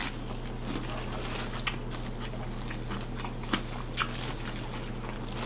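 Crisp crunching bites into Doritos nacho taco shells during a taco meal, several sharp close crunches spaced a second or so apart over a low steady background hum, with no talking.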